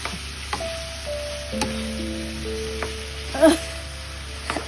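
Chayote sautéing in a pan gives off a soft, steady sizzle, broken by a few light spoon scrapes and taps as it is stirred, with one louder scrape near the end.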